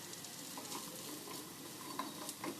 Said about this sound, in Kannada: ದೋಸೆ ತವ ಮೇಲೆ ನೀಟಾಗಿ ಫ್ರೈ ಆಗ್ತವೆ ಇವು.